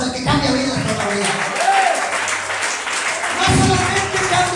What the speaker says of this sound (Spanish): Denle ese aplauso al que cambia vidas todavía